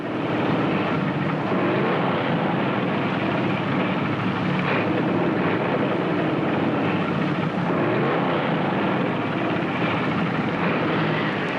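Racing engines of 1958 stock cars roar continuously at the Southern 500, a loud, dense mechanical drone that swells and fades as cars pass, heard alone without voices.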